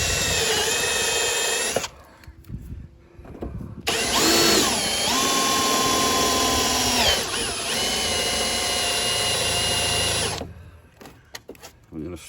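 A power drill whines in long bursts, near and loud, stopping and restarting with brief pauses and changes in pitch, with a voice speaking between runs, while drilling to install a voltmeter on a Husqvarna.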